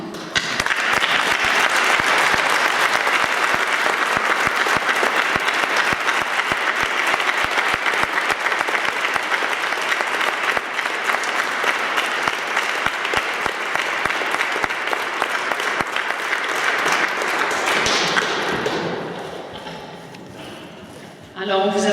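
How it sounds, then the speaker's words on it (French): A funeral congregation in a church applauds for a long stretch, sustained and dense clapping from many people that fades near the end before a voice begins. "j'aimerais qu'on l'applaudisse pour tout ce qu'il a accompli"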